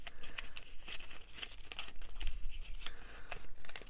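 Origami paper gets reverse folded in close-up. Crisp crinkles and sharp creasing rustles come in quick bursts, with no talking.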